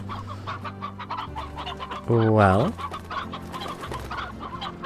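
Hens clucking in the video game Slime Rancher, a loud burst of rapid rising clucks lasting about a second amid steady game background sound, with a voice speaking briefly.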